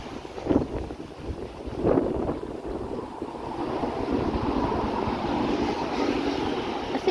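A sea breeze buffets the microphone on a walk along Royal Hospital Road in Chelsea, a loud steady rush with gusty swells near the start, continuous throughout with no talking.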